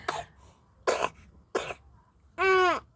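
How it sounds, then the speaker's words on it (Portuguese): A baby coughs four times at roughly even intervals. The first three are short, harsh bursts, and the last is longer and more strained, with a hoarse, voiced edge. All are close and fairly quiet. "Ele tá bem chatinho, gente, com essa tosse."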